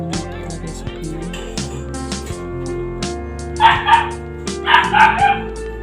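A dog barks in a few short bursts late in the clip, heard over a steady bed of background music.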